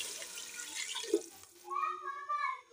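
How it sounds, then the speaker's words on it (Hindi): Water pours into a cooking pot for chicken shorba, a gurgling, filling rush with bubbly resonant tones, near and fairly soft, with faint voices in the background. "ढेर सारा पानी डालेंगे"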